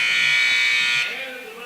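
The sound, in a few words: final buzzer at basketball game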